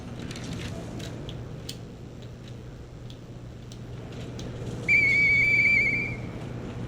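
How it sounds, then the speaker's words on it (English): In the video game Lies of P, a clear whistled tone rises out of quiet ambient game sound and holds for about a second before fading, preceded by scattered faint ticks and clicks. "I know that whistle."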